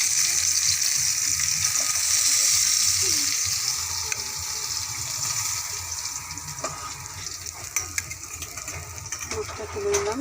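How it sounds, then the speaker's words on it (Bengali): Fish sizzles in hot oil in a pan, a steady bright frying hiss with small crackles and occasional clinks, close and constant, with a voice faintly under it. "মাছটা আমার কিন্তু লাল হয়ে গেছে, তার মানে মাছটা এখন ভাজা হয়ে গেছে।"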